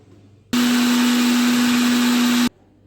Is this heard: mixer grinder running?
yes